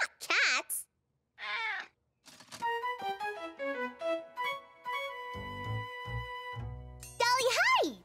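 A cartoon cat in Caillou gives two high, wavering meows at the start and a louder one at the end, with a tinkling, chiming melody and soft thuds playing in between.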